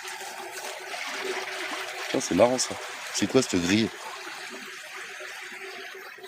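Water pours steadily from a large pipe into a stream at a sewage treatment plant, a constant rushing flow heard under people talking.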